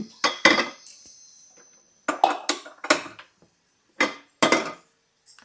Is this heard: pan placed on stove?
yes